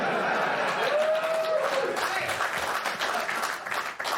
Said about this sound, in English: Premature applause.